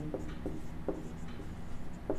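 A pen writing on paper during a Class 11 math lesson on relations and functions: soft, scratchy strokes that come in short, irregular bursts, close and quiet, with no talking.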